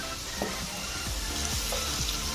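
Potatoes frying in hot oil with salt and turmeric, a dense, steady close sizzle with a few soft stirring scrapes and no speech.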